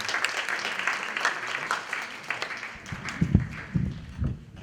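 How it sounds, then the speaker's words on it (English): An audience applauds summer internship program interns at a certificate and scholarship ceremony, a steady patter of clapping that swells near the end with a few louder nearby claps. "Another big round of applause for all of our interns for the summer internship program."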